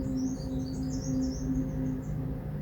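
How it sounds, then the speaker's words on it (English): Small birds twittering outdoors, a steady run of faint high chirps over a constant low hum and background noise. "I can hear the birds twittering"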